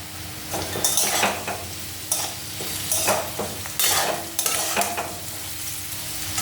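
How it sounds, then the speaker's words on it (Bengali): Salted jackfruit seeds fry in a pan, a steady sizzle broken by repeated scraping bursts as they are stirred, with no talk. "কাঁঠালি বীজ খুব ভালো ভাজা হয়ে গেছে।"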